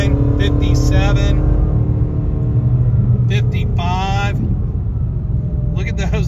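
Supercharged Ford Mustang engine pulling under a bit of throttle, a loud, steady low drone running through the whole stretch while someone talks over it.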